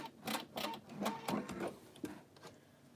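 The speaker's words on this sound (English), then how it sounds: "This is a Pfaff Icon sewing machine" A quiet Pfaff Icon sewing machine stitches in quick, rhythmic bursts, its mechanical ticking repeating steadily before trailing off.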